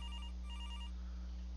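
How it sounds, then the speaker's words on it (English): A telephone bell rings in repeated electronic trill bursts, faint and low in level, over a steady background hum from a video game session. "the phone's ringing like somebody's wanting to know, what are you doing?"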